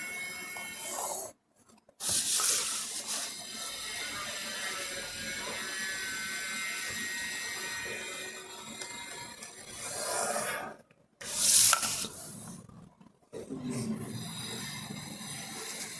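An eraser rubs out extra drafting lines on a paper dress pattern, giving repeated scratchy rasping strokes close by, broken by brief pauses.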